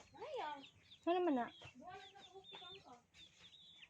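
Chickens cluck in short, close bursts on a rural farm in the countryside, while someone talks over and between the calls.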